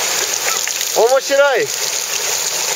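Water in a bubbling basin at Fari Falls hisses and gushes continuously at moderate loudness, with a brief spoken voice rising over it midway.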